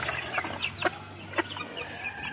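Backyard chickens, a Tasmanian Black crossed with Golden Boy, cluck in a few short, close, rhythmic calls over a constant low background hum.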